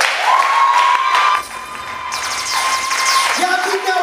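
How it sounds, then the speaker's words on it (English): Live audience at a tribute show applauding and cheering, a dense continuous wash of claps and shouts filling the room, with a loud tonal whine and some voices on top. "Y'all keep that round of applause going"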